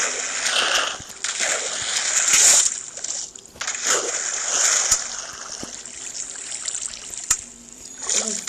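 Water flows and trickles in Minecraft while a bucket is being filled, an uneven splashing stream that swells and fades, with sharp clicks from game actions breaking in.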